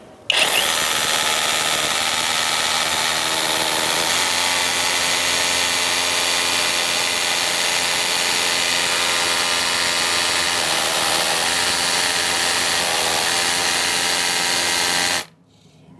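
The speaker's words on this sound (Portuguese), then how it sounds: "Pega uma broquinha dessa aqui, ó, de 10, tá? Botei aqui na função furar com, com impacto" An impact drill fitted with a 10 mm bit runs loud and steady for about fifteen seconds, a close continuous whine and hammering buzz that starts abruptly and cuts off near the end, with no talking.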